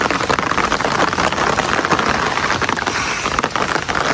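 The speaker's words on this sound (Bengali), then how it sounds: "এখন বৃষ্টি নেমে গেছে" Steady rain falls outdoors in a village vegetable plot, a dense, even hiss of drops on leaves and ground, loud and continuous with no talking.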